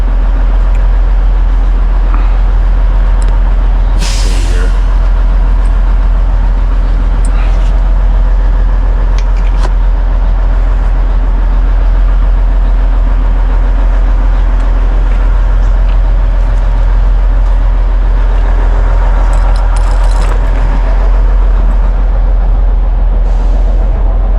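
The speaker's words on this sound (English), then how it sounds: "Truck sounds a little rough." A semi truck's diesel engine idles with a slightly rough, uneven running note on a flatbed hauling tarped cedar lumber, a steady continuous drone close by with a few brief louder bumps and no talking.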